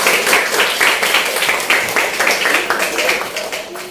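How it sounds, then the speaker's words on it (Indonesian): A classroom of students clapping together, a dense, fairly loud burst of rapid hand claps sustained for several seconds. "tepuk tangan untuk kita semua"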